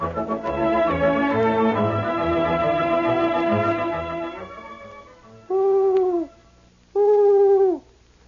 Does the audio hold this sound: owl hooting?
yes